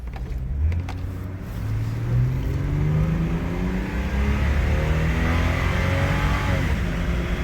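A 2004 Chevrolet Trailblazer just after a tune-up with a coil pack fixed, its engine droning steadily from inside the cabin as it drives and gently accelerates, with a continuous low rumble and road noise throughout and no talk.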